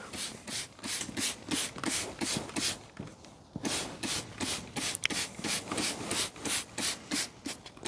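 Repeated back-and-forth scrubbing of a Proton Wira wheel trim, a steady rhythm of close, loud rubbing strokes with one short pause partway through.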